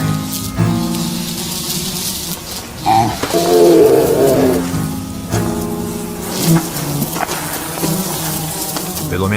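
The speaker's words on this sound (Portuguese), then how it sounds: "Pelo menos os insetos conseguem se alimentar." Insects buzz in warm weather, a wavering, droning hum that rises and fades over roughly nine seconds, close and fairly loud, with low rumbling beneath it.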